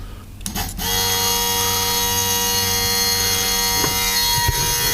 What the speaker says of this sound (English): Pump is down there, pump is running.